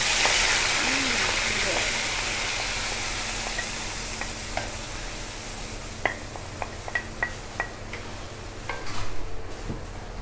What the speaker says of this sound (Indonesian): kita akan masukkan bawang yang kita dah kisar ni tadi